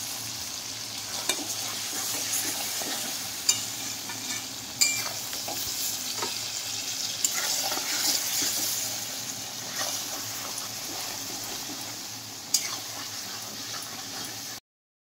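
Mango pickle mixed with red chili powder in a pan, stirred steadily with a constant sizzle and repeated spoon scrapes and knocks against the pan. The sound stays close and continuous, with no talking.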